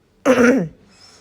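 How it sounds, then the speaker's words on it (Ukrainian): A single sharp throat clearing, loud and close, lasting about half a second before fading into quiet. "Ми кашляємо"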